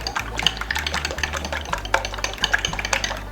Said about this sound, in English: I'm just going to whisk them up with the old fork.